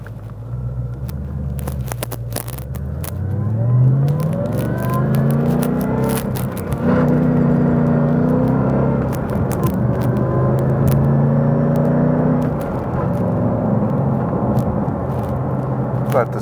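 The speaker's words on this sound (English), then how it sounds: "Okay, so I'm gonna go through the gears." A grey 2018 Shelby Super Snake pulls hard through its gears, a loud close rumbling engine rising in pitch and dropping at each shift, repeated several times over a steady roar.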